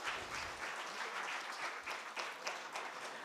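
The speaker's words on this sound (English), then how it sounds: "So it's a big round of applause for them" An audience at a business school event applauds case writers, giving a fairly faint, steady round of clapping with a few sharper individual claps standing out.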